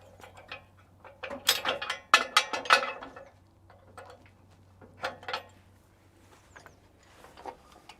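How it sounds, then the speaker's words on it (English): Clicking, ratcheting mechanism of a winch being loosened on a Logosol B751PRO band sawmill, a run of close, uneven ratchet-and-pawl clicks in quick bursts, then a few sparser clicks after a pause, over a low steady hum. "we can loosen the winch and put it down in parking position again"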